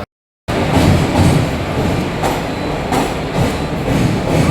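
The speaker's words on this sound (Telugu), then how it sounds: "ఫైనలీ మేము వెళ్ళవలసిన ట్రైన్ అయితే వచ్చేసింది అనమాట." A passenger train rolls into a station with a loud, steady rumble and heavy rhythmic clatter of wheels over rail joints, close by and sustained throughout.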